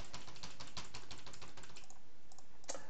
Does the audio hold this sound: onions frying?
no